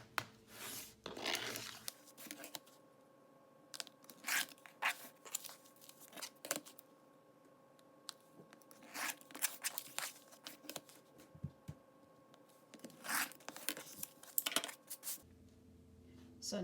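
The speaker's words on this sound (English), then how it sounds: "we're going to trim a 1/4 inch away from this line that we drew" Scissors or a rotary cutter trim paper-pieced fabric and graph paper a quarter inch from a drawn line while making flying geese quilt blocks, giving several quiet, short cutting snips and rustles over a faint room hum.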